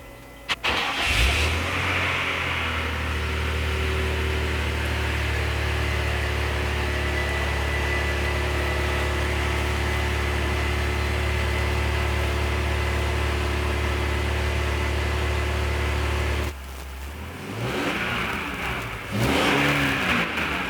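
A BMW E46 engine with catalytic converter and muffler removed cranks and catches, then idles with a steady low rumble for a long stretch before revving up near the end.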